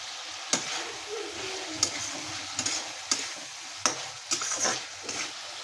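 Tomato and eggplant go into cooked spices in a pan for a Bengali chickpea and eggplant dish, with a steady sizzle of frying and periodic scraping clanks of stirring, close up.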